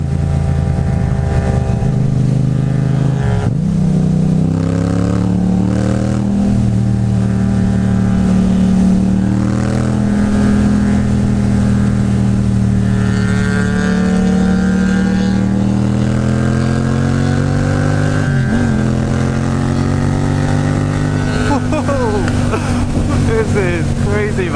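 A car engine revs hard and accelerates, the note climbing and falling through strong gear pulls with loud, close harmonics. It holds steady for the whole stretch, and the low drone stays constant underneath.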